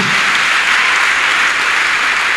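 A church congregation applauding and cheering, with dense, loud, sustained clapping that fills the room evenly and does not let up, and no talking over it.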